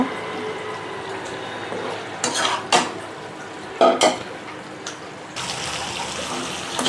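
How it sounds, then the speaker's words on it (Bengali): Potatoes stirred and fried with spices in a pan, with repeated metal spoon scrapes and clanks against the pan over a continuous low sizzle, close and fairly loud. "এখন আমি আলুটা দিয়ে ভালো করে কষিয়ে নিব।"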